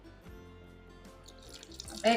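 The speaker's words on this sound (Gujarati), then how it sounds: "અને હવે એમાં આપણે થોડુંક પાણી નાખવાનું છે" Water is poured into semolina handvo batter in a kitchen, a quiet trickle and drip that grows louder toward the end over faint background sounds.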